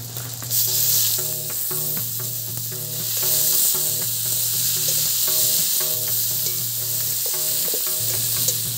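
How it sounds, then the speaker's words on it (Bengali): Chopped tomatoes and slit green chilies sizzle in a pan with fried onion and garlic for a Santali chicken curry, a loud continuous crackle broken by a regular rhythm of stirring scrapes. "এখন আমি দিয়ে দিব টমেটো কুচি আর চেরা কাঁচা লঙ্কাগুলো।"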